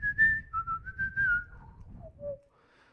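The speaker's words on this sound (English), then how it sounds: "That poor bloke cannot get to the end of that whistle," A single person whistles a short phrase of the tune Lilliburlero, clear and close, the melody stepping downward over a few seconds before trailing off unfinished.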